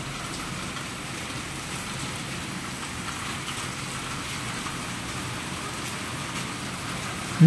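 Heavy, steady rain pours down without a break, a dense wash of hissing and pattering that stays loud and even throughout.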